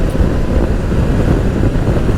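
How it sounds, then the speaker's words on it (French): Strong wind roars against a Moto Guzzi Stelvio motorcycle ridden at about 90 on a twisting road, a constant heavy low buffeting with no pauses. "Il y a beaucoup de vent."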